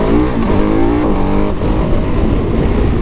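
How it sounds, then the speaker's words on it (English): 2021 KTM 1290 Super Adventure S motorcycle being ridden hard, its loud engine note climbing through the revs, dipping briefly at a shift, then pulling on strongly and steadily close up. "you would never get bored of riding this bike, that's for sure"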